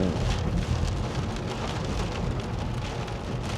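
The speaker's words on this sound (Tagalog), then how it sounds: "Lakas-lakas ng ulan." Heavy rain pours steadily in a dense, continuous hiss and patter during a week of wet weather, with no voices.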